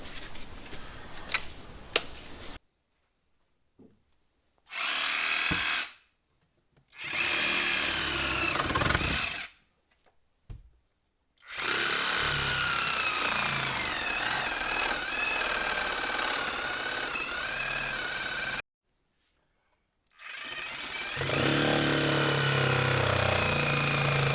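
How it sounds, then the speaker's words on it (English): A power saw cuts through nails in wood while a sub-panel is installed, running loud and close in several long, harsh buzzing stretches with abrupt stops and short silences between cuts. "There's a nail here, here, and there I need to cut."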